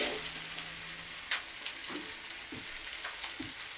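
Broccoli and radishes stir-fry in hot oil in a skillet, giving a loud, continuous sizzle with scattered pops and spatula scrapes up close.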